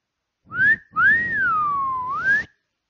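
A person whistles two rising-and-falling notes, a short chirp followed by a longer sliding tone that dips and climbs again, clear and close.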